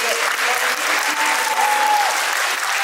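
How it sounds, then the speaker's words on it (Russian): Sustained, dense audience applause at a choral conducting department's anniversary concert, many hands clapping steadily at an even level throughout. "Давайте аплодировать."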